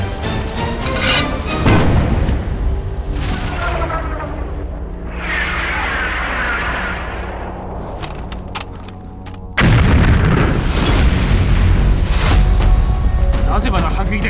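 Artillery cannon fires in a wartime battle scene as a Chinese gun crew shells a Japanese gun position; loud booming blasts and rumbling explosions run throughout, with a sharp heavy burst near the end and voices mixed in.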